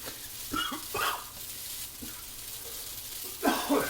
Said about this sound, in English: now it starts smoking, and now it starts really frying